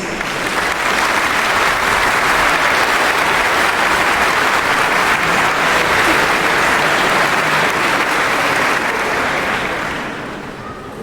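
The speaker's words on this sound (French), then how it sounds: "Vous avez vu comme ça sonne déjà, rien que des applaudissements." Loud, dense audience applause fills the Philharmonie de Paris concert hall, a sustained wash of clapping from a large crowd lasting around ten seconds before starting to fade.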